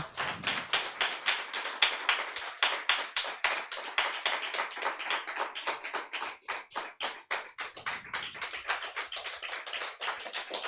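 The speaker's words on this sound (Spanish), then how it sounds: "Le invito a que le dé un fuerte aplauso al Señor." A group claps in steady rhythmic applause at a church service, sharp hand claps in quick succession lasting throughout, fairly close, without talking.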